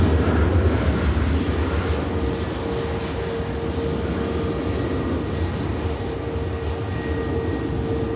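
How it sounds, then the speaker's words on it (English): EasyJet Airbus A320neo airliner taxiing at Manchester Airport, a continuous rumbling engine drone with a steady whine, fairly loud and unbroken, easing slightly in the middle, no talk. "the EasyJet for Hurghada is coming around the corner here"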